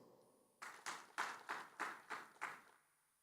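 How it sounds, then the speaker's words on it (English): Seven separate, evenly spaced claps ring out in a quiet room, a sparse handful of hands at a public forum on governance reform rather than full applause. "A round of applause for him."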